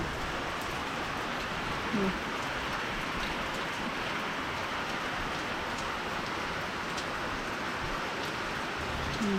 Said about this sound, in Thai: มันจะตกหนักขนาดนี้เลยค่ะ